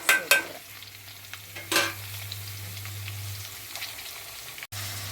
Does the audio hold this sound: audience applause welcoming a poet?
no